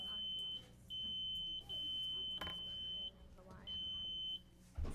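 Electronic quiz buzzers at a middle school academic bowl sound in a row of steady, sustained beeps, each held for about a second with short gaps, under a quiet room murmur.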